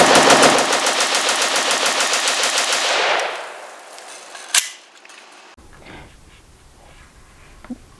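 Bren 2S pistol fired rapidly at an outdoor range, a fast continuous string of loud shots for about three seconds, followed by quieter scattered sounds and a single distant shot.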